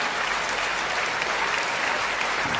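Audience applause at a live Hindi comedy show, a dense steady wash of clapping from a crowd sustained for the whole stretch with no voices over it.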